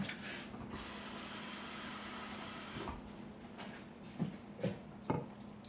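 Water from a one-cup measure pours steadily into a pan of Salisbury steak, a continuous splashing hiss that softens after a few seconds and gives way to a few brief sizzling spurts, close by with no talk.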